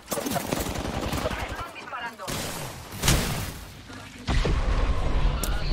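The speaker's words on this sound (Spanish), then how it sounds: "Ya sé que te están disparando." Gunfire in Apex Legends, rapid automatic bursts and heavier single shots cracking in clusters close by, under excited voices talking over the fight.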